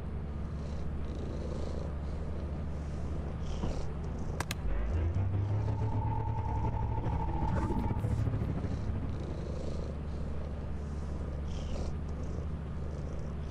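A loud, close, continuous purr rumbles from the Maxwell cat in the Lethal Company video game, steady over a busy background with a brief tonal hum in the middle.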